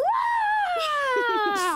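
A voice imitates a spooky ghost scream: one long, wavering wail that rises and then slowly falls, with faint breathy sounds under it.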